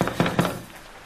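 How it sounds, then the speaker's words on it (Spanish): Knocking on a hotel room door: two or three firm, hollow raps close together near the start, then quiet room tone. "Escuche, hay alguien en la puerta,"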